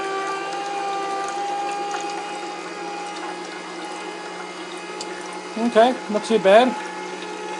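A Kogan vertical cold press juicer runs on orange pieces after carrot, giving a steady mechanical hum and whir with a few squeaky grinding bursts near the end, where a voice briefly speaks.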